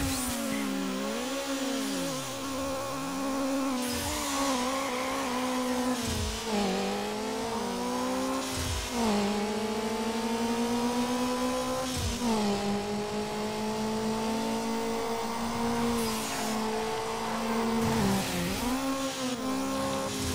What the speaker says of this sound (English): that Golf has the engine sound of an R34